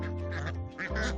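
Domestic geese from a small independent flock honk loudly and close by in a few overlapping nasal calls, with a low steady hum underneath.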